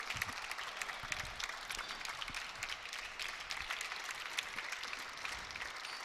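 A large crowd applauds steadily after a squash final at a pro-am event, a dense patter of clapping heard at a distance and holding even throughout.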